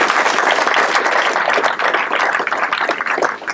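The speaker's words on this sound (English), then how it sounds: "so please give them a round of applause too" Audience applause at an agency swear-in ceremony, a dense, steady wash of clapping from a roomful of people, loud and close, running throughout.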